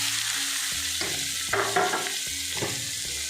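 Vegetables frying in a pan for a Kerala thoran hiss steadily and loudly while a utensil stirs and scrapes in a rhythmic series of knocks, no voices.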